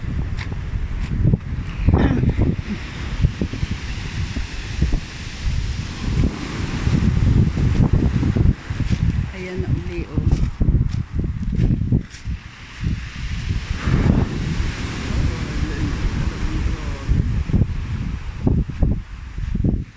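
Sea waves washing up along a shore, rumbling surges of water rising and falling with wind buffeting the microphone, loud and close throughout.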